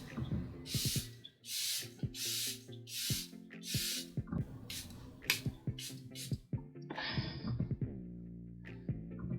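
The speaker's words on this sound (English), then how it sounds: "I'm just gonna finish off the face with this Charlotte Airbrush Flawless Setting Spray" Charlotte Tilbury Airbrush Flawless setting spray misted onto a face in several short, breathy bursts spaced about a second apart, close and crisp, with quieter handling clicks and taps between and after the sprays.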